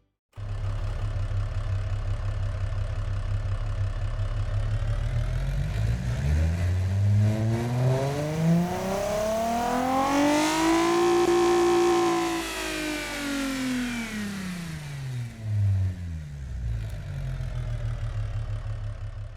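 Turbocharged V6 sports car engine in the Automation game, revving steadily up from idle to a high peak and falling back down again, loud and continuous with no talk.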